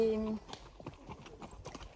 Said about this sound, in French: Il est trop beau ce cheval